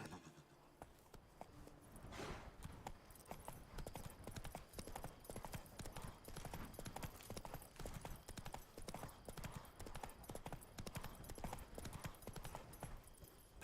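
Roach, a horse in The Witcher 3: Blood and Wine, trots with steady, close hoof clip-clops throughout, joined by an occasional neigh and a brief spoken command.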